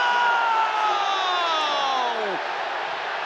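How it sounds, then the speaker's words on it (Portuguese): Football stadium crowd roaring in a sustained, loud wash of cheering after a goal in a Champions League match in Milan, while a commentator's drawn-out shout rings over the noise. "Olha o grito da torcida, rapaz."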